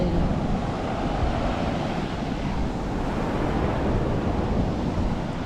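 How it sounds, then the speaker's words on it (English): Sea surf on a Norfolk beach rolls in a constant close roar, mixed with wind buffeting the microphone, with no voices over it. "listen to the noise of that sea"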